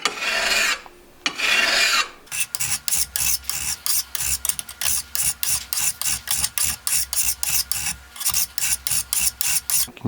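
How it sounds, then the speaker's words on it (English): A metal file rasps across an old rusted tool edge in steady one-direction strokes, each loud, close scrape separated by a short pause, running in an even rhythm after a couple of longer opening passes. "I'm going to take this file and just work in one direction."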